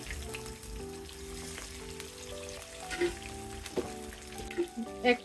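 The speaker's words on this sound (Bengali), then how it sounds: "মাছের পিসগুলোকে আমি ভালোভাবে ভেজে নেব" Katla fish pieces, about six, frying in oil in a pan, a steady crackling sizzle throughout, with a few louder pops and spatters near the end and no talking.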